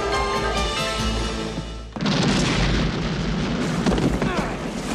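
A base blows up in the action film Tango & Cash: a loud explosion bursts in around two seconds, giving way to sustained roaring rumble and debris, following a tonal musical passage.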